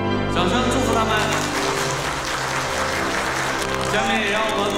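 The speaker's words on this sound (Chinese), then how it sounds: "掌声祝福他们。" Guests at a wedding ceremony break into loud, sustained applause that fills the room, with music playing underneath.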